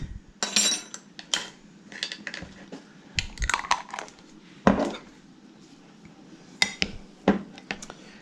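A utensil scrapes and clinks against a dish while mixing Colby Jack cheese with chopped garlic, giving a run of irregular, close, sharp clatters and scrapes.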